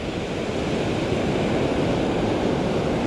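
Surf breaking at the sea on a day of high surf and strong current, heard as a steady, loud, broadband roar of waves with no pauses and no voices.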